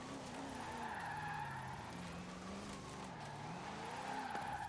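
In Forza Horizon 4, a Ford F-5 dually truck on sport tyres skids sideways. A continuous tyre squeal rides over a rising and falling engine note, loud and close throughout, with no voices.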